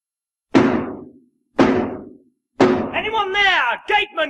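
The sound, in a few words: knocking on a gate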